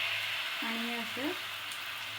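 Small pancakes fry in a lightly oiled pan with a soft, steady sizzle, and a brief faint tonal sound passes over it midway.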